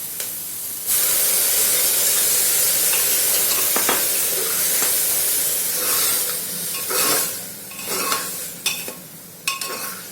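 Chopped tomatoes and green chili hit a pan of browned onions with a sudden loud sizzle that settles into steady hissing frying, broken by occasional scrapes and stirring clatters.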